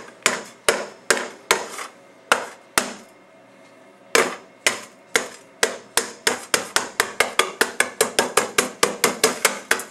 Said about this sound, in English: we need to crush 24 Oreos into a very fine powder. You can use a meat tenderizer